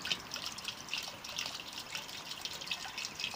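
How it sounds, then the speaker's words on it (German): Water trickles and drips steadily from a board beneath a cooled solar panel into a rain gutter that drains back to a rain barrel, a soft, close, continuous dribble with no voices. "dann tropft das Wasser da in die Regenrinne, von der Regenrinne wieder zurück in die Regentonne"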